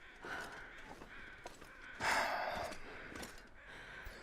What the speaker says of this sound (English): so that's what those crows are